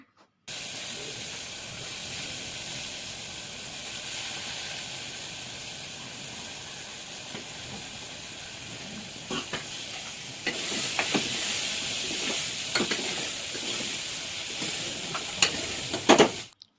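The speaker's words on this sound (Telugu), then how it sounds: "ఇంక ఇక్కడ కర్రీ అయితే ప్రిపేర్ చేస్తున్నాను" Curry sizzles and fries in a pan while being stirred, a steady close hiss with scraping stir strokes that grow louder and more frequent toward the end.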